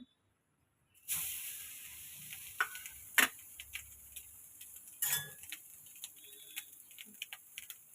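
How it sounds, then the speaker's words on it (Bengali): Grated coconut residue dropped into a hot iron wok sets off a steady close sizzle with occasional scraping and ticking of a spatula against the pan, no talking. "কড়াটা গরম হয়ে এলে আমরা নারকেলের যে ছাইটা বেরিয়েছিল সেটা আমরা দিয়ে দেবো কড়াতে"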